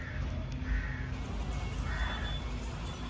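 Crows and mynas gather beside a factory to eat sev, with a few intermittent caws rising over a steady outdoor background hum.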